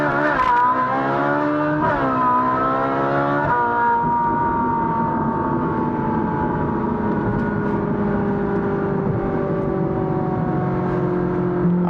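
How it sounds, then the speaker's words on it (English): Ferrari 458 Spider in sport mode accelerating, its exhaust rising in pitch through a few quick upshifts in the first seconds, then settling into a steady, loud drone as the car cruises on; no talk. "I do want to stretch it out a little bit, hear the exhaust, make sure it's running good"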